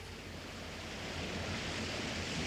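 A waterfall rushes in a 1983 radio dramatisation of an adventure story, a dense, steady roar of broadband noise that swells slightly over a couple of seconds, with no voices.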